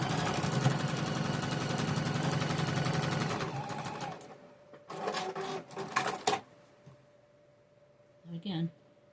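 Sewing machine sewing straight along a marked stitching line on quilt pieces, a loud continuous run of stitching that stops midway, followed by brief handling clatter and a short bit of talking.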